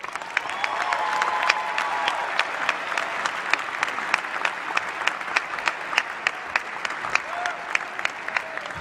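An audience at a university convocation applauding to welcome a graduate speaker, sustained dense clapping from a large crowd with a few sharp claps standing out near the front, a faint cheer and murmur underneath.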